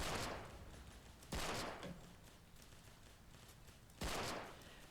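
Gunfire from the Roblox game War Simulator: three loud, sharp bursts of shots, each decaying with a rumbling tail, spaced about 1.3 and 2.7 seconds apart over a steady battlefield background.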